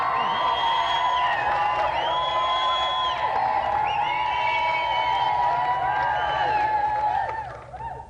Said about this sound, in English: Another round of applause for our special guest